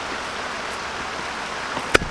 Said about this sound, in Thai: นี่ฝนก็ตกจริงแล้วครับเปียกแล้วครับผม